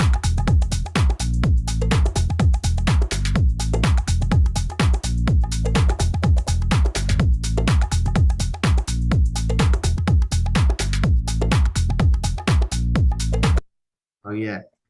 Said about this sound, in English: I've then decided on a bass line